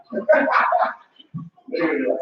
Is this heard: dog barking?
yes